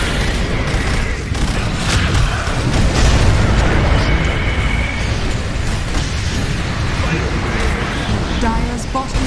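A tower crumbles in the Dota 2 match as booming explosions and combat noise roll on steadily and loudly, with an announcer's voice over the game sound.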